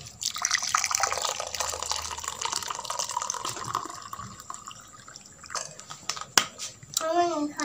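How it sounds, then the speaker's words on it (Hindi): Fennel milk poured into a glass in a village kitchen, a steady liquid stream filling for several seconds with splashy trickles, followed by a few sharp clinks and a final gurgle, with faint background voices. "तो अब हम दूध को गिलास में डाल लेते हैं।"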